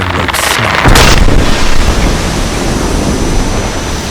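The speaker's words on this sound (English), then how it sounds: "Like a gunshot, the mooring rope snapped." A tugboat's mooring rope snaps with a sharp gunshot-like crack during a cyclone at sea, one loud burst followed by a sustained roar of wind and heavy waves.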